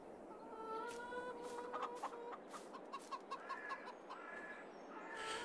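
Hens cluck repeatedly in Farming Simulator 22, a steady run of short, close clucks and calls with no talking over them.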